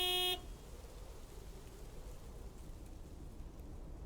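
A big white delivery truck in the game Lake sounds one short, loud horn blast, then the clip falls to a low, steady hiss of background ambience.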